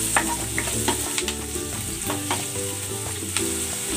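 Sliced onion and mushrooms sizzle steadily in a hot pan for chopsuey, with light clinks and scrapes of stirring over the frying, close and moderately quiet, with no talking.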